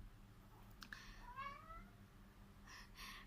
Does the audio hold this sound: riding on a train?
no